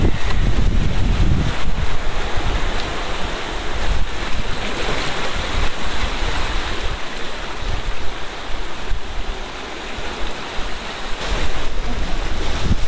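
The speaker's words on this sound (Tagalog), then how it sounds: "Ay, sarap ang hangin." Loud, constant sea breeze roars across the microphone at Bato Beach on Polillo Island, Quezon, mixed with the wash of surf, with no talking.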